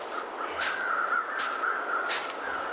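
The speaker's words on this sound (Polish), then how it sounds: "Czemu to tyle ptaków lata?" Crows caw in The Long Dark video game, three spaced, moderately loud calls over a steady wind-like background hiss.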